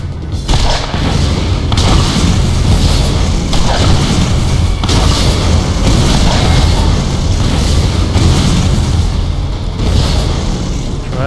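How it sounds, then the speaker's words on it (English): Missile explosions in the video game Borderlands thunder in a dense, continuous barrage, heavy booms layered over loud action with no pauses. "I have yet to figure out how to dodge almost any one of those missiles"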